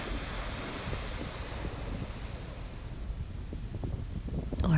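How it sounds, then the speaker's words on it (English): Ocean surf at the seashore at sunrise, a continuous low rumbling wash with gusty wind buffeting the microphone, swelling slightly toward the end. "there's nothing like starting off your day listening to the waves"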